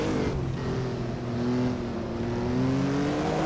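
A historic 1954 Formula 1 car at Reims-Gueux in Assetto Corsa braking hard, its loud engine note holding a steady, slightly wavering drone with no talking.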